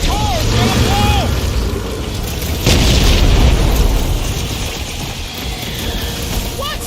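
Explosions burst in the game Guardians of the Galaxy amid combat, with a loud broad boom near the middle over a continuous roar of battle noise and music, while voices shout over the action.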